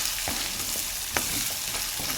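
Ginger garlic paste fries in hot oil with a dense, close hiss, broken by a few brief scraping stirs of a spatula.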